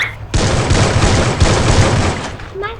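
Rapid gunfire bursts out in Free Fire, a loud, dense stream of shots lasting about two seconds, followed by a brief voice.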